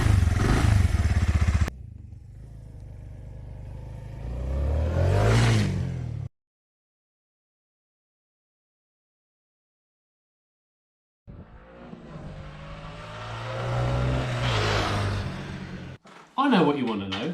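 A Suzuki VanVan motorcycle engine revs up and fades twice, separated by a stretch of silence, with a quiet, muffled exhaust note rising and falling.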